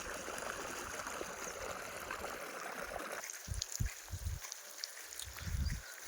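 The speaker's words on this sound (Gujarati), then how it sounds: "પછી પાણી મૂકવાનું કામ ચાલુ કર્યું છે" Irrigation water runs into a maize field, a steady trickling stream flow with gurgling close by, interrupted by low thumps and rustles in the second half.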